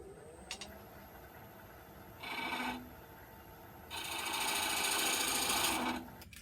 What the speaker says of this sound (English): Still back on my 3/8 gouge.